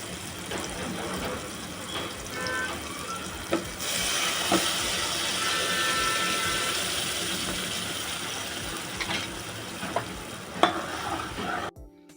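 Steady sizzling of tomatoes frying in oil in a pan, with occasional scraping and stirring clicks throughout; no talking.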